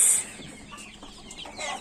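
Chickens and chicks cluck in a crowded coop with a rooster, giving a brief, close burst of soft clucks and chirps.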